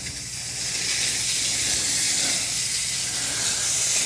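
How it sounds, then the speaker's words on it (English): A Shark steam mop hisses continuously as it releases steam, a steady close-up spray of noise that swells slightly after the first half second and holds. "The steam's a little bit hit or miss."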